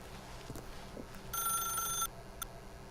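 A telephone rings in The Stanley Parable video game. One short burst of bright electronic ringing stands out over a quiet ambient bed, followed by a faint click.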